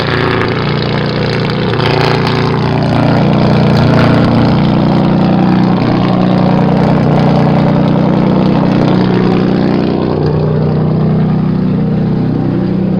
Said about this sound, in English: That electric choke makes it idle pretty high, so that means it's warming up.